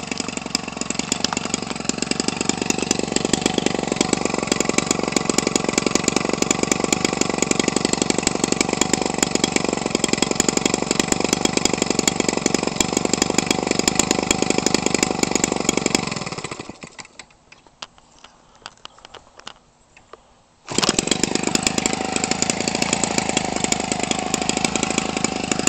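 A Homelite 25cc engine converted for RC use runs loudly and steadily, with a dense buzzing drone that drops off briefly near the end before roaring back at full speed.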